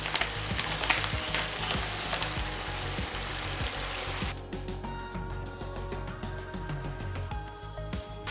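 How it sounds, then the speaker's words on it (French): Ground beef sizzling in a pan, a dense crackling fry with scraping stirs, the hiss easing partway through as the cooking continues, close and steady with no talking. "Et je vais cuire ma viande hachée jusqu'à qu'il n'y a plus d'eau."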